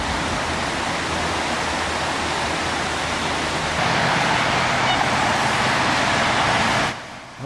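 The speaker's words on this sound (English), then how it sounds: "they have like a creek that goes through here." Steady broadband rush of creek water flowing through an urban area in Austin, continuous and fairly loud, growing slightly louder midway before cutting off near the end.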